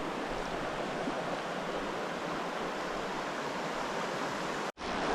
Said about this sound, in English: So nice tributary stream of Lycoming Creek